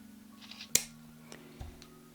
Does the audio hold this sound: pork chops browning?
no